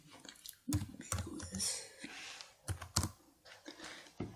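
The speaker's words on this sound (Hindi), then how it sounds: "गूगल में ये गूगल बिजनेस टाइप करना है" Clicky keystrokes tapped on a computer keyboard in short irregular bursts, fairly close, with brief pauses between runs of keys.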